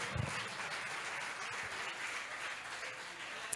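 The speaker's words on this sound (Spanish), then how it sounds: "Alguien que aplauda fuerte al Rey de Reyes y Señor de Señores." A church congregation claps loudly and steadily for several seconds during a Bible study, with a dense, even patter filling the room and faint talk underneath.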